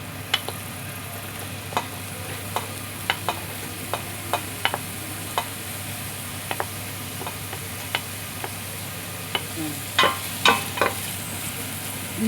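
Onions sautéing in a pan for homemade beef stew, a steady low sizzle broken by sharp clicks and taps of a utensil stirring against the pan, growing busier near the end.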